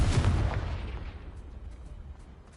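Confringo blast spell cast in a Hogwarts video game, a single deep, booming burst up front that rolls off into a fading rumble.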